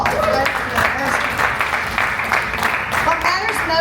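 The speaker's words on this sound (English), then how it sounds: "that alone deserves a round of applause" Audience applause at a remote-work conference, a loud continuous wash of clapping with crowd voices mixed in and talk running underneath.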